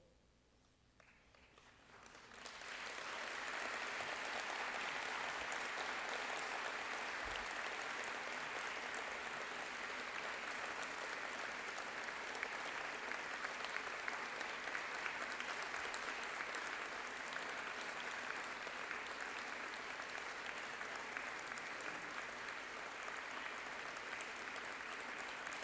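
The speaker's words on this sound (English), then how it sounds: "by a way of applause." Graduates of 2018 applaud at a graduation ceremony, a broad sustained wash of clapping that swells in after a quiet opening and holds steady and full for the rest.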